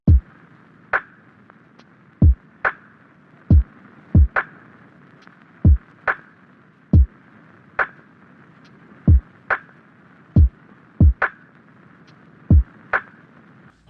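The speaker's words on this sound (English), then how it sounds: "and the drums sound like this" Lofi drum beat programmed in FL Studio, a slow loop of deep kick thumps and snappy snares in a steady laid-back rhythm over a soft hissy texture, heard alone.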